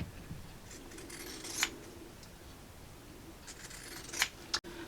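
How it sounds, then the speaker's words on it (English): Pinking shears trim the edge of fabric in a few quick, quiet crisp snips, then a faint click, alone with no talk. "I'm not taking very much off, I'm just pinking the very edge"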